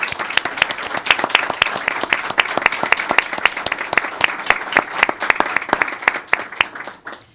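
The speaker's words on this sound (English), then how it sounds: "let's give him a round of applause" Applause at a school board of education meeting for a staff member in the room, a modest group clapping with distinct, closely spaced claps, fairly near and loud, tapering off at the end.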